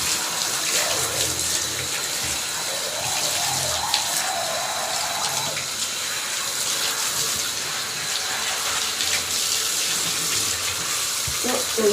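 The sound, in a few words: running water rinsing soap off a dog during a bath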